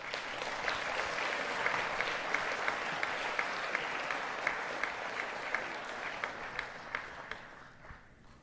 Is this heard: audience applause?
yes